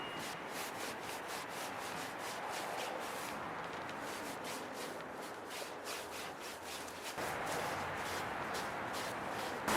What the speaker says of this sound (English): we're kind of smudging it on with a sponge brush